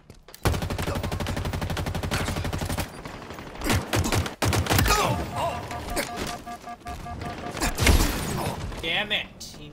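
Needler fire in the Halo Infinite video game: a rapid, loud burst of repeated shots, then crackling impacts and bursts, with a player talking over the gunfire.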